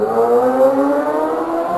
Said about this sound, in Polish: Ktoś się rozpędził na motorku weselny.